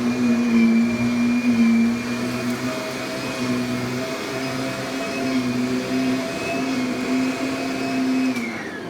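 A Kirby upright vacuum cleaner runs steadily and loudly close by, a constant whirring motor drone with a high steady whine that holds for the whole stretch before dipping slightly at the end.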